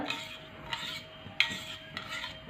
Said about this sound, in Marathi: आता या कोमट दुधामध्ये साखर घालून मी थोडंसं ढवळून घेणार आहे चमच्याने साखर विरगळेपर्यंत